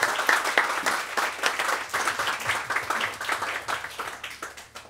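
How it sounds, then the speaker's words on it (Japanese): Church congregation at a Christian festival gathering applauds God right after a closing prayer, a full, even wash of many hands clapping together, fairly close and steady before easing off toward the end. "神様に拍手します。"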